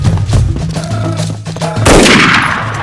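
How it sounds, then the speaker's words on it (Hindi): Gunfire from an action movie scene rings out in sharp, loud cracks with a metallic clang and a final heavier blast, dense and close with no talking. "अबे फायरिंग हो गई।"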